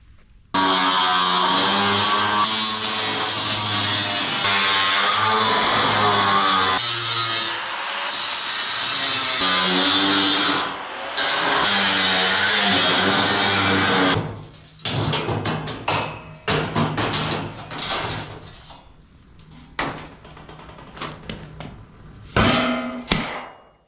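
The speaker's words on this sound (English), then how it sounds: "go ahead and cut out the center section, let it fall" An abrasive cutting wheel on an angle grinder slicing through a 1967 Chevy bumper, a loud, steady high-pitched grinding screech in long passes, followed by a stretch of clanking and handling noises.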